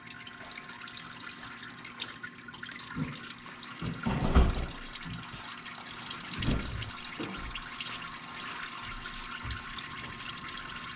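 Engine oil draining from a 2021 Nissan Titan Pro-4X during an oil change, a steady liquid trickle and splash into a pan, with a few louder splashy bursts and a low background hum.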